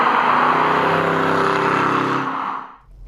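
A 2016 Holden SS-V Redline manual's engine revs hard through its bimodal exhaust with a loud, steady roar for a couple of seconds, then quickly fades away.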